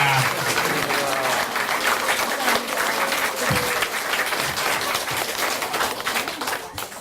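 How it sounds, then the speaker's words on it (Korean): Audience at an author talk with a Buddhist monk gives long, sustained applause, dense and loud clapping continuing for several seconds before easing off, with faint voices mixed in. "제일 긴 박수 그리고 긴 박수가 나오기는 오늘이 처음인 것 같습니다"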